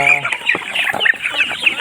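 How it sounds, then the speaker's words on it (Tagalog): A flock of chickens clucks and squawks busily up close while being fed rice bran, overlapping calls in quick succession with no talking. "kapakain po tayo ng ating mga manok"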